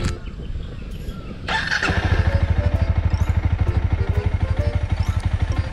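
A Honda Rebel 250 motorcycle engine cranks and catches, then settles into a loud, steady, rhythmic idle that throbs evenly to the end.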